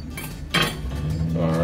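Kale leaves being pushed and tossed around a metal baking pan with oil, giving a steady close scraping and rustling with a brief louder clatter partway through.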